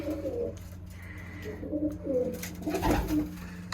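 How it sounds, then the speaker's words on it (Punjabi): Pet pigeons coo nearby in soft, low, repeated throaty calls, with a few louder bursts of cooing and faint background noise. "ਲੋ ਜੀ ਆ ਗਏ ਜੀ ਕਬੂਤਰੀ"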